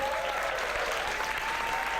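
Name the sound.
audience applause for a climbing finalist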